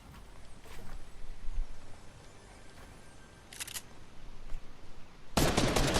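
Rapid submachine gun bursts in Fortnite, a short crackling volley midway and a louder sustained burst at the end, over a steady game background hum.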